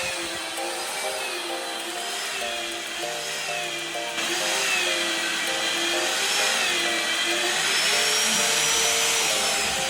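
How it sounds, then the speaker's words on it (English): A steady high-pitched mechanical whine of a magnetic drill boring steel runs throughout, loud and continuous, with a slight rise in intensity midway. "Very fast, mag drill."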